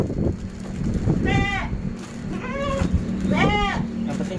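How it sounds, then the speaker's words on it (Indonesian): Goats on a farm bleating noisily at a feed of tofu dregs, three distinct wavering bleats spaced about a second apart over a busy, rustling pen background, close and fairly loud. "Kambingnya berisik dia ngeliat ampas tahu teman-teman."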